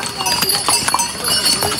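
Horses and mules clop along the Kedarnath pilgrimage trail, their hooves striking in quick irregular beats close by, mixed with a busy crowd murmur and voices.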